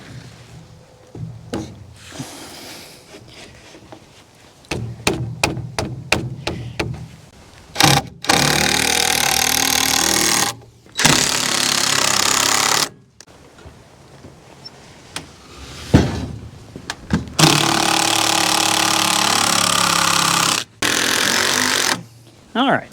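A power drill drives screws into wood while building a round bale hay feeder, with several long steady whirring runs and bursts of short clicks and knocks, mixed with a speaking voice between runs.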